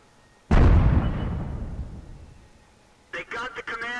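A single heavy artillery shell blast in the World of Tanks game, a sudden booming impact with a long rumbling decay, followed by someone talking.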